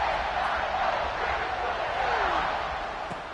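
A football stadium crowd buzzes after a score in a Penn State versus Ohio State game, a broad, steady murmur of many voices at moderate loudness with a faint sliding whistle-like tone midway.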